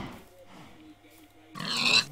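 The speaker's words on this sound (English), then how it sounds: "Did you just kill a pig?" A Minecraft pig grunts and oinks in a short loud burst near the end, after a stretch of quieter game sound with a voice talking.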